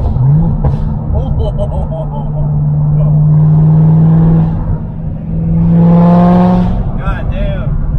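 A Corvette C6 ZR1's supercharged engine drones from inside the cabin and then swells into a rising rev as the car accelerates, loud and close, with people talking over it.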